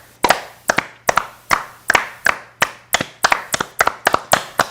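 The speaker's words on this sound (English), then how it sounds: "And then clap." A single person claps their hands in a steady, close series of sharp claps, about a dozen crisp strikes in an even rhythm, some doubled.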